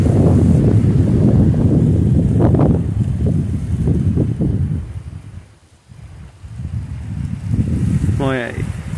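Wind gusts roar steadily around a farm windmill water pump at a rural well, a broad rushing noise that dips briefly and then returns, with a faint rising whine near the end.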